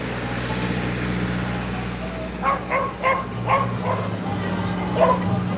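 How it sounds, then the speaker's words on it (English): A dog barking on a city street in Washington D.C., a handful of sharp barks in quick succession over a constant hum of traffic and outdoor noise. "Wild ass dog."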